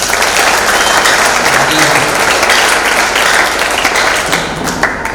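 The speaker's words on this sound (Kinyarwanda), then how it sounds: "Mumfashe turiho amashyi menshi cyane." Loud, sustained applause from a crowd at a men's church conference closing, steady clapping filling the whole stretch with no break.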